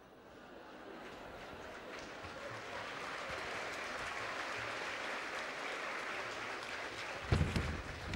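An audience at a commemorative event applauds, clapping swelling from a soft start into sustained, dense applause that holds steady before a louder burst near the end.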